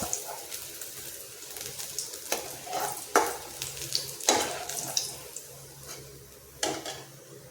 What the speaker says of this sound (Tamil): இதே மாதிரி எல்லா கோவக்காயும் பொறிச்சு எடுத்துக்குவோம்